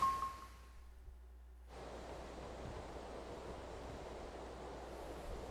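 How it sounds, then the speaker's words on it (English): Rolling ocean waves at sea in the video game Tales of Berseria, a steady broadband wash that swells in after a quiet opening and continues evenly at moderate level. "We're safely on the rolling waves."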